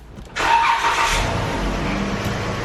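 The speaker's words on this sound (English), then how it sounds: "you'll start your vehicle" A Dodge Journey engine starts with a short crank that catches abruptly into a loud, steady idle. It is close, with no talking.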